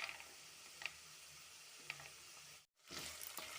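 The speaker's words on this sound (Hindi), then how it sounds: "मूंगफली को भी अच्छे से फ्राई कर लेंगे" Peanuts fry in a pan for sabudana khichdi, giving a steady close sizzle with faint crackles and a few sharp pops, briefly cut off near the end before the frying resumes.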